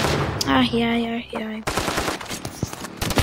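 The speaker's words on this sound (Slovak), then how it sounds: "Ale proste strieľanie ma baví." Rapid bursts of automatic gunfire from the mobile shooter game Standoff 2 follow a short tonal game sound, with dense rattling shots filling the second half.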